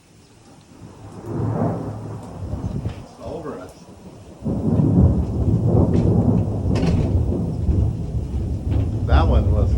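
Thunder rumbling and rolling through a Nevada thunderstorm, a low swelling roar that fades then surges louder and sustains, with rain in the background and a person talking briefly.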